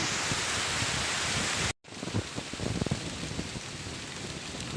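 Heavy rain hisses steadily across leaves high up in a pili tree, briefly cut off, then returns with scattered louder patters and drips close by.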